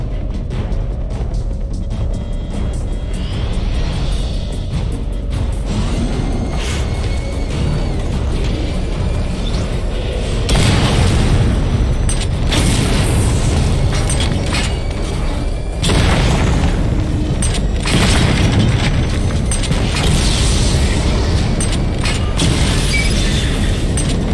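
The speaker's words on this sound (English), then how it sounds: "Charge up missile barrage to level 2 and destroy 4 active targets to complete diagnostic test." Missile barrages in Batman: Arkham Knight land as repeated booming explosions, with mechanical clanks and ratcheting in between. The blasts grow louder and denser in later bursts, over a constant rumbling game soundscape.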